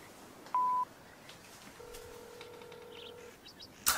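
A telephone being dialed: a few short electronic keypad tones, one longer steady tone, then a brief beep, fairly clear against a quiet background.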